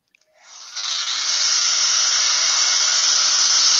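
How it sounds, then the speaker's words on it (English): A hair dryer switches on and quickly ramps up to a steady, loud, close whooshing blow that holds level without a break. "I knew I shouldn't have put the hairdryer away."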